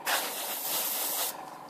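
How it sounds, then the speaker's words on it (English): An airbrush sprays paint at low PSI onto a scale model for weathering, a soft steady hiss that holds for just over a second before dropping away, close and fairly quiet. "So I'm going to get stuck in with the airbrush now."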